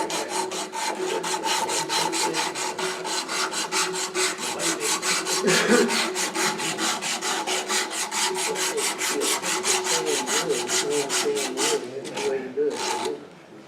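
Hand sanding of a very old, very hard piece of scrap mahogany, worked from the inside: fast, steady rasping strokes, loud and close, with no pause for about thirteen seconds before trailing off.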